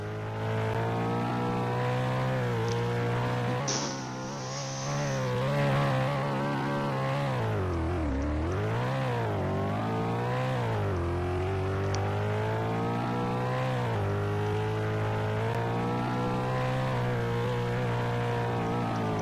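A car engine in the Redwood County driving game runs again after being broken, a loud continuous engine drone that rises and falls in pitch with revving, steady and close throughout.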